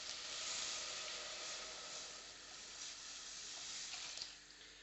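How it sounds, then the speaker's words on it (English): A litre of water poured into a soup pot of softened vegetables, a steady broad rushing hiss that holds for the whole stretch at an even, moderate level, close by with no talk. "So I'm going to add a litre of water"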